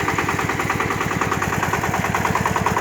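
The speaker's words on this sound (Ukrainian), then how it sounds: "В общем, отак сівалочка працює." A new seed drill working in a field, a close, steady mechanical drone with a fast regular knocking pulse from the engine and moving parts, continuous and fairly loud throughout.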